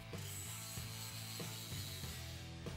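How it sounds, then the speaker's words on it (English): Ratcheting clamp tightening steel beams together while building a welding chassis table: regular mechanical clicks about every half second, quiet and close over a steady background hum. "we clamped the beams together"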